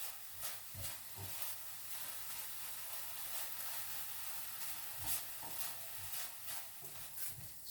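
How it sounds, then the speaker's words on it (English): Chopped bacon sizzles in a pan on high heat, a faint, steady hiss with soft crackles and small pops scattered throughout, with no talking. "Back onto the heat, and I'm turning it right up, and then in we go with our chopped up bacon."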